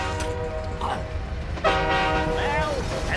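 A train rumbles past with its horn sounding in long tonal blasts, loud and close over the steady roll of the cars.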